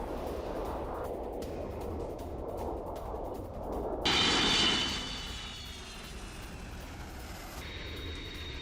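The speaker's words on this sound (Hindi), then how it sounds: "12 A-10 attack aircraft middle east के लिए रवाना हो गए" A-10 attack aircraft and tanker planes take off and fly from a UK air base, a loud continuous jet engine roar with a whining rise partway through, heard from a distance without talk.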